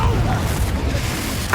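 A Confringo spell blast in the Hogwarts Legacy game lands as a low, rumbling boom close up, with a short bright burst near the end and a voice calling out over it.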